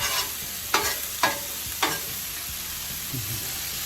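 Beef for cheesesteak fries on a Blackstone griddle with a steady close sizzle, interrupted by three quick spatula scrapes early on, then continuous frying noise alone.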